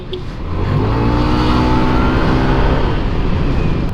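A stock-exhaust Yamaha NMAX V2 scooter revs up after a brief quiet start, then holds a steady, loud, close engine drone with no talking over it.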